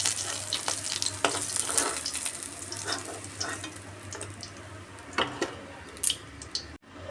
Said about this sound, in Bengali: মাছ ভাজার তেলের মধ্যে আলুগুলা ভেজে নিচ্ছি।